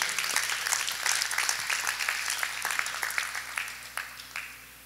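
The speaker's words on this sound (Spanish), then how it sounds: "Denle un fuerte aplauso al Señor." A church congregation applauds together, steady dense clapping filling the space at moderate distance, gradually thinning toward the end, with no talking over it.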